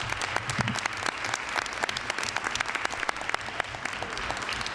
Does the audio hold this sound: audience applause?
yes